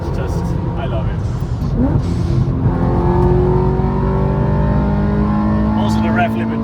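A supercharged BMW E90 M3 making about 750 hp, on the Autobahn, drones at high revs and hits the rev limiter, with a loud steady engine tone and supercharger whine that climbs and holds, heard from inside the car while people talk over it.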